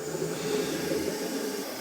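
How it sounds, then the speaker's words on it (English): A home water softener runs its recharge cycle, giving a steady, even hiss with a faint mechanical hum, constant throughout and fairly close. "while the recharge is running, which you could probably hear a little bit behind me"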